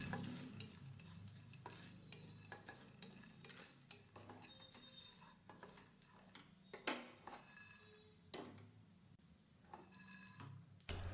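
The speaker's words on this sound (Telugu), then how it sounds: "1 టీ స్పూన్ ధనియాలను 2-3 టీ స్పూన్ల నువ్వులను కొన్ని ఎండు కొబ్బరి ముక్కలను వేసి వేయించాలి" Coriander seeds, sesame seeds and dry coconut pieces dry-roast in a pan, giving a soft sizzle under scattered scrapes and clicks of stirring.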